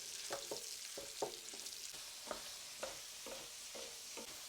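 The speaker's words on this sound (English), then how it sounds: "I'm going to break up my sausage like this into small pieces." Sausage browning in a pan for biscuits and gravy casserole, with steady sizzling broken by repeated scraping, chopping strokes of two wooden spoons breaking the meat apart, close and fairly quiet.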